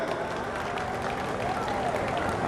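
Crowd applause at the closing of the Bhind trade fair and Bhind Mahotsav 2025, welcoming the MP and MLA: continuous diffuse clapping from a large outdoor gathering, steady and fairly far off, with a faint tone and murmur mixed in.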